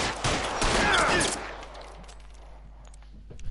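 Rapid bursts of gunfire in the L.A. Noire video game, a loud dense fusillade for about a second that fades into a quieter tail with faint scattered pops.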